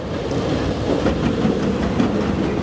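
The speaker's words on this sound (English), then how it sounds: "Oh, mostly empty train. It is crawling." The Fire & Ice roller coaster train at Six Flags Over Texas, mostly empty, crawls along slowly and steadily, its wheels clattering over the track in a low, continuous roll without any speech.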